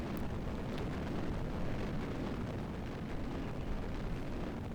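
A rocket launches in Kerbal Space Program, a steady, loud, broadband roar of engine thrust that holds constant throughout with no talking.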